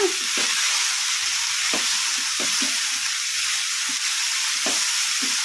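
Pundi greens fry in a pan over a medium flame, giving a steady close sizzle with scattered scraping stir strokes throughout and no talking.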